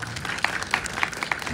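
An audience claps at a Busan Film Festival screening Q&A for Believer 2, with many hands making a dense, even burst of applause for a moment.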